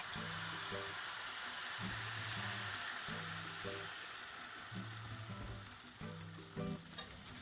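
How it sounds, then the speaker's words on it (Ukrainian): Soft, steady sizzling of batter frying in an oiled pan, quiet and close, with faint low clinks and scrapes in the background. "змащуємо олією і починаємо наливати та смажити"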